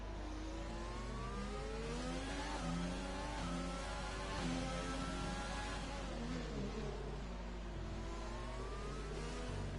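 Formula race car engine in a racing video game at the Singapore circuit, a continuous high-pitched whine rising and falling through gear changes as it accelerates along the straight, loud and close with no talk.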